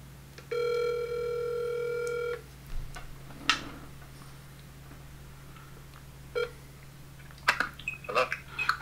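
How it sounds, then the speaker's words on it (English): Telephone call being placed: a steady dial tone for about two seconds, followed by quiet ticks and soft clicks, then faint scattered sounds toward the end. "I'm gonna dial him right now"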